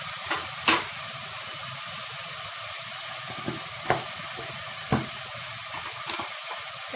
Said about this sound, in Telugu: ఒకసారి కలిపిద్దాం ఇవన్నీ.